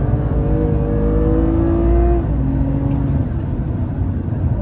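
A car accelerating hard on a race circuit during a driving lesson, its engine note rising steadily in pitch, easing briefly for a shift, then building again as a loud sustained drone heard from inside.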